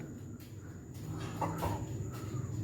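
Chickens cluck softly nearby over a steady background hum, a few short calls rising midway.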